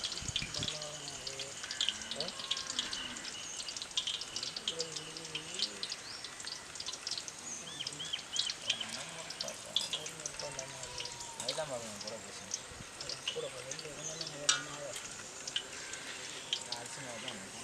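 Rose cookies (achu murukku) frying in hot oil, a steady bright sizzling hiss that runs throughout, with someone speaking over it.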